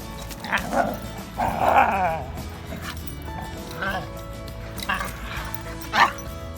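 A dog yips, barks and whimpers in short, excited bursts on a leash during roller skating, fairly close, with a person talking over it.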